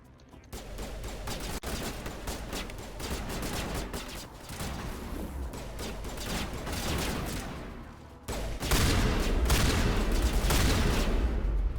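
Shotgun blasts ring out in the video game Mass Effect, a dense run of rapid booming shots at moderate loudness, growing heavier toward the end, with no talking.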